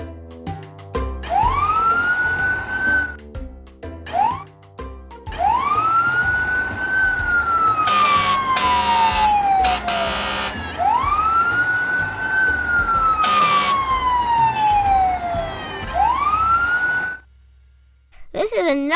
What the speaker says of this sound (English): Touch the siren and hear how loud it wails.